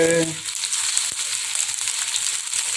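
Blended, ground spice paste for a yellow curry of young jackfruit and chicken feet hits a hot pan and fries with a loud, steady sizzle and crackle, starting with a brief burst and continuing unbroken with no talking.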